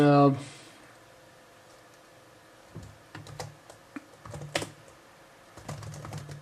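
Someone types on a computer keyboard while installing NVIDIA drivers on OpenSUSE, producing short bursts of close key clicks separated by pauses, with a voice talking over part of it.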